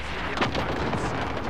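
A distant airstrike explosion rumbles in Call of Duty: Modern Warfare, a short low boom under dense, continuous battlefield noise.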